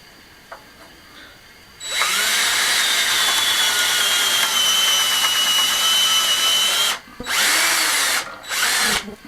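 A power drill fitted with a pilot bit bores a hole for a handrail on a Catalan vaulted staircase: a loud, steady whine runs for about five seconds, then two shorter bursts follow after brief pauses.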